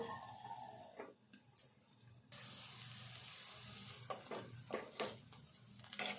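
Onion pieces frying in a pan for a bitter gourd onion masala gravy, a quiet start followed by a steady, close hiss of sizzling with a few stirring scrapes.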